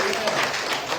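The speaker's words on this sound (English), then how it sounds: "give a rousing applause to our ladies" Short burst of applause from a church congregation at a Sunday service, dense and steady at moderate volume, with some voices mixed in.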